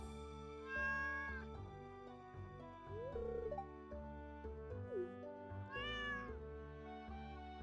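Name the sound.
cat meowing in the video game Stardew Valley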